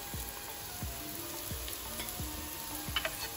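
Ginger, garlic and spices fry in a pan for a vegan chana dal kofta curry, sizzling steadily up close, with regular soft knocks as a spoon stirs through them.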